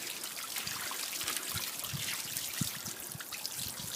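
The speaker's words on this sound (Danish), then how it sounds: "Skyld det på den her måde ned igennem, så vi skyller de fleste aflejringer ud den vej ned der." Water rinsing mineral deposits out through a BAXI boiler heat exchanger, a continuous splashing trickle with small gurgles and drips, steady and close without voices.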